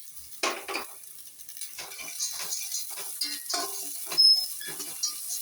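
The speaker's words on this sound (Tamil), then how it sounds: "இதெல்லாம் நல்லா வதக்கி" Cashews, raisins and coriander leaves are sautéed in a pan, with faint sizzling and repeated scrapes and taps of a spatula against the metal, close but quiet.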